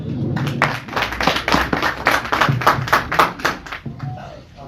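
A small group claps to welcome councillors, producing a run of distinct, uneven hand claps close by that taper off near the end, with a voice faintly mixed in.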